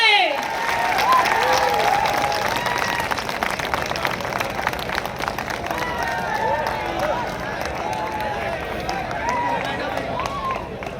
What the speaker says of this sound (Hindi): महामहिम का स्वागत जोरदार तालियों से करें